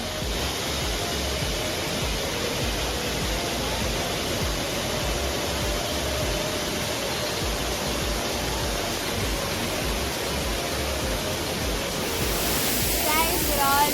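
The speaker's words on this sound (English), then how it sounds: "we're front of the waterfall" A waterfall in Coorg, heard from close in front, gives a loud, unbroken rushing roar that holds steady throughout.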